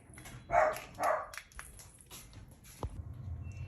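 A puppy barks twice in quick succession, short and moderately loud, in a home kitchen during holiday fudge making, followed by quieter household shuffling and a single soft knock.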